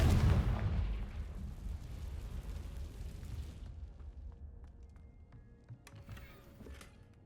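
A loud blast from the Confringo spell in Hogwarts Legacy, a heavy booming explosion that rumbles and fades over several seconds into quieter game ambience with faint chimes.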